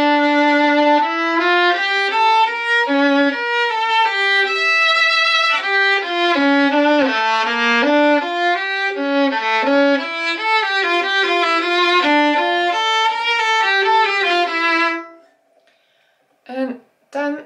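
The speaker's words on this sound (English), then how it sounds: "So I will play Partita number 2, Allemanda by Bach" Solo violin plays Bach's Partita No. 2 Allemanda, a continuous flowing melodic line of bowed notes, loud and close, ending with a few short detached notes after a brief pause.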